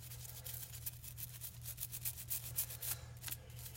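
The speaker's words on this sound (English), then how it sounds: "I'm going to put a few drops of Carbon Destroyer on the brush. And I'm just going to rub this down" A brush scrubs Carbon Destroyer cleaner onto gun parts in quick, irregular scratchy strokes, close but fairly soft, over a low steady hum, with no talking.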